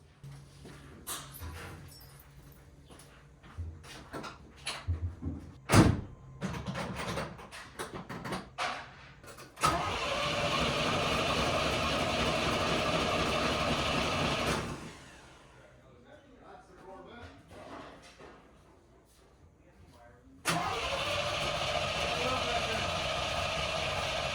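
A C3 Corvette that has sat for years being cranked, bursts of loud steady starter grinding alternating with quieter pauses, after some clatter and voices nearby.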